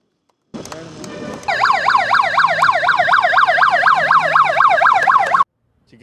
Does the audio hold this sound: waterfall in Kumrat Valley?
no